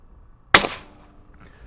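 A single loud, deep-toned shot from a .308 rifle with 168 grain supersonic FMJ ammunition fired through a SilencerCo Hybrid 46M suppressor, a sharp crack with a short fading tail in otherwise quiet surroundings.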